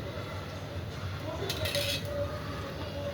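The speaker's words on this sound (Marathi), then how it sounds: "मी चमच्याने तोप घेते पूर्ण तूप मिसळते छानपैकी" A metal spoon scoops ghee and stirs it in a pot for traditional rice kheer, with faint scraping and a short brighter clinking burst in the middle, quiet against room noise.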